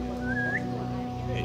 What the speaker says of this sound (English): I will whistle